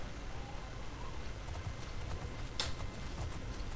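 Horse hooves clop in a faint, steady rhythm beneath dense background noise while riding in the video game The Elder Scrolls IV: Oblivion.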